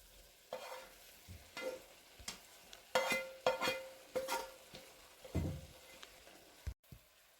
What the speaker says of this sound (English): I'm going to go ahead and add my saltfish and vegetables to the pot with the callaloo